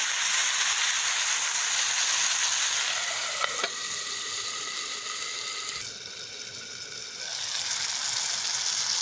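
Chopped tomatoes cook in a pan for a Gujarati kaju curry, a loud continuous hiss and sizzle that dips and swells as they are stirred, with one sharp clink partway through.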